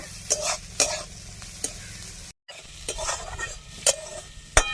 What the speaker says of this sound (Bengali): গাজর আর ক্যাপসিকাম একটু নাড়াচাড়া করে ভেজে নেব।